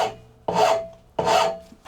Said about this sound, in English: I'm going to go with a half round rasp here to start with